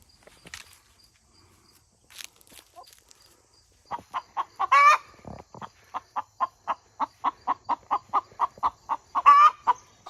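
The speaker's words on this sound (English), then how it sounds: "There's one of our lovely egg songs from one of our new Splash Moran hens." A Splash Marans hen cackles its egg song in a long, regular series of clucks that builds into loud squawks, close by, after some quieter scratching and shuffling.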